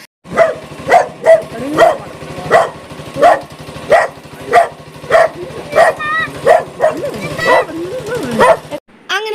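A dog barks repeatedly in a steady rhythm, close and loud, about a dozen sharp barks with some whining between them.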